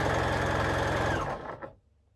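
Sewing machine stitching quilt block pieces together in a fast, steady run of needle strokes, close and clear, then slowing and stopping near the end.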